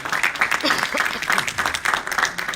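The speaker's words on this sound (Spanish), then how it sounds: "Dale un aplauso fuerte al rey" Church congregation at a men's revival campaign applauds loudly in bursts of clapping with cheering voices mixed in, the sound pulsing unevenly throughout.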